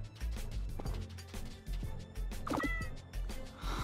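A cartoonish cat meow from the video game The Adventure Pals, heard in a short burst near the middle amid busy game sound effects, thumps and music; no one talks.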